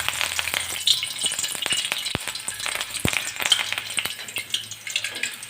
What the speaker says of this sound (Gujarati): તો ઉમેરી દઈશું અને તળી લેવાનું છે.